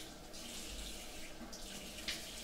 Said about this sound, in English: let me rinse off the alum